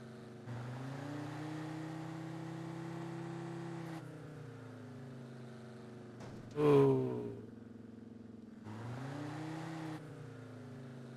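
A truck engine drones steadily while driving in the video game Drive Beyond Horizons, with two sustained stretches separated by a gap and a sharp burst mid-clip; a voice briefly exclaims.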